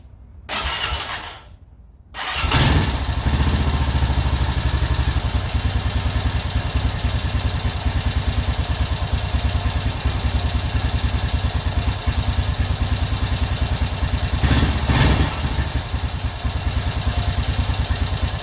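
A 2001 Honda Rancher ATV engine catches after a short start and settles into a loud, steady running idle close by, with a brief rev bump near the end and no talk.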